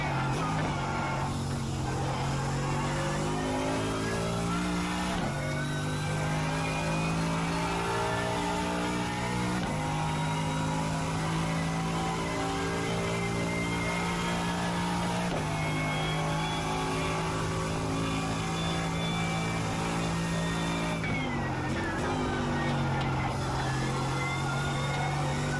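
Race cars revving through the gears at Bathurst in the iRacing sim, Australian Sports Sedans with a steady loud engine drone that rises and drops with several shifts, continuous throughout.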